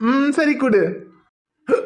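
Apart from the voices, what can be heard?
hiccup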